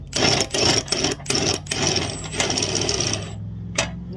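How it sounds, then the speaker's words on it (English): An impact wrench works a wheel bearing nut on a Lexus SC430, hammering out several loud, close rattling bursts with brief pauses between them before cutting off near the end. "So I got the wrench on, got the impact on, and loud noise this time."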